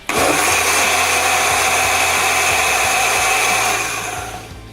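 A small smoke device whirs loudly and steadily at close range as it blows cherry wood smoke into a chamber, then winds down and fades over the final second.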